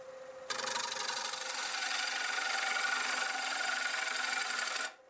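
A 5/8 woodturning tool being sharpened gives a steady, even grinding hiss. It starts abruptly, holds at a constant level for about four seconds, then stops.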